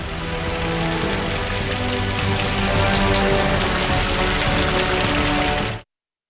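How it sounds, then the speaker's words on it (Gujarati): Heavy rain pours down on village areas around Upleta near Rajkot, including Lathi, Bhimora and Kudhech, as a dense, steady hiss of falling water that holds constant before stopping abruptly. "અનરાધાર વરસાદ વરસી રહ્યો છે"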